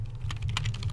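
Quick, close clatter of fingers typing on a computer keyboard, a rapid burst of keystrokes in steady succession over a low hum, with no voices.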